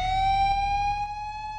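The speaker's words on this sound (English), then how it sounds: "Japanese police siren." A Japanese police siren from a Sega video game plays as a steady, slightly rising electronic tone, loud and close, with a faint pulsing rumble underneath.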